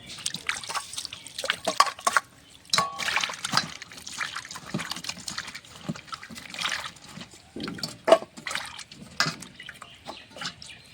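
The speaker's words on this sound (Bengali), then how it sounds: "উচ্ছেটা কাটা হয়ে গেছে, ধুয়ে নেব।" Cut bitter gourd pieces being washed in water, with irregular splashing, trickling and dripping that comes in short bursts close by. No one speaks, and a faint bird or rooster call sits in the background.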